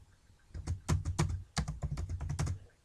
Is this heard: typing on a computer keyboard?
yes